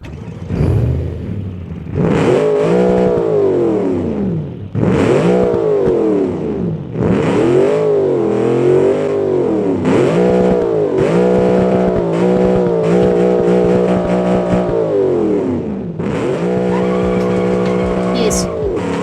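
A video game car's engine starts, then roars and revs repeatedly, rising and falling in pitch, with tire squeals near the end; loud and close, no talking.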